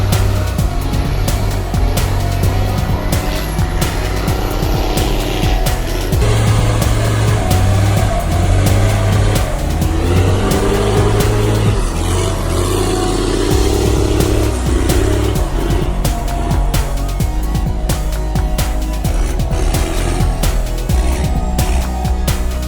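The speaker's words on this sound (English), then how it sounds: "but the skidder handles the job smoothly" A log skidder's engine roars loud and close while dragging heavy logs through a forest, a continuous throbbing drone with shifting pitch and rattling mechanical clatter throughout, with no voices.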